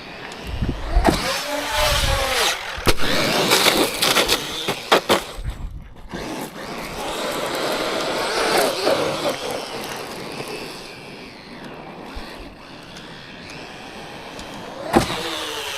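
A Traxxas Maxx V2 radio-controlled monster truck drives hard outdoors, its electric motor whining and rising and falling in loud bursts, with scattered clatter and thumps from the chassis and ground, no talking.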